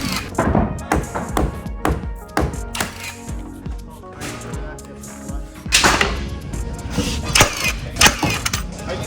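Irregular sharp wooden taps and thunks of nails being hammered into wooden pieces, some strikes loud and close, others softer, with brief bursts of background voices mixed in.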